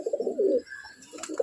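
A male pigeon coos up close, two short throaty bursts separated by a brief pause, soft and alone with no talking.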